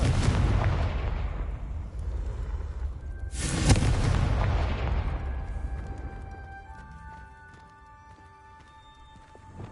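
A single booming blast from a fire spell in Hogwarts Legacy, a loud broad burst that rolls off slowly into a rumbling tail, with faint tonal game chimes lingering afterward.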